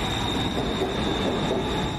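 A train rolls past with a dense, steady rumble of wheels on rails and a high, sustained squeal from the wheels, loud and close throughout with no pauses.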